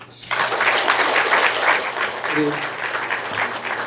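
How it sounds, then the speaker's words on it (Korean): A church congregation applauds after a baptism, a dense, steady wash of many hands clapping that holds for several seconds and fades slightly, with a brief spoken word partway through. "박수 한번 주시죠."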